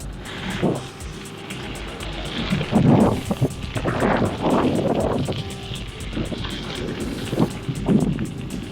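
Headwind gusts buffet the microphone while riding a bicycle along a wooded southern towpath, a series of low, rumbling wind bursts rising and falling over a steady background rush.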